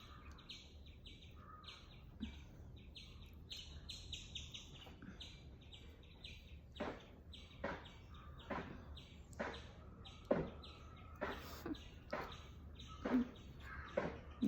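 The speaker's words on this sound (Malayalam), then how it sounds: "കിളികളുടെ കളകളാന്നാദം കേൾക്കുന്നില്ലേ" Birds chirp and tweet outdoors in a quiet setting, with short repeated calls that grow denser and more distinct over time, fairly faint and at a middle distance, with no voices.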